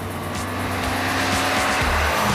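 A Mitsubishi Lancer Evolution X pulls away in second gear, its engine note rising steadily as it accelerates. The sound is close and fairly loud, with a faint tire edge, and there is no talk.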